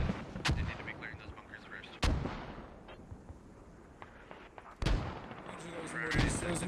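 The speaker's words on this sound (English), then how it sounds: "Those mortars are devastating." Heavy mortar rounds from a 107 mortar barrage slam down in a military video game, three loud booming impacts spaced a couple of seconds apart, each trailing rumbling debris amid distant battlefield noise.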